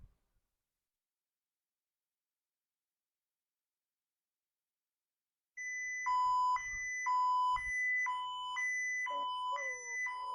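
SCADA software sounds its critical alarm: after several seconds of silence, a loud electronic two-tone beeping starts and repeats in a steady alternating pattern until the end.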